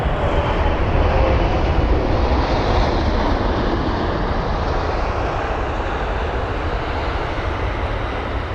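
A Qatar Boeing 777F cargo jet landing at London Heathrow after a diversion from Frankfurt gives a steady, loud, broadband engine roar and rushing air, continuous throughout with no talk.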